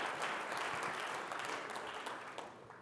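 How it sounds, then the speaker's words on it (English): An audience at a security services owners' conference applauds the company CEO, dense sustained clapping from a large crowd that slowly tapers off. "Give him a round of applause."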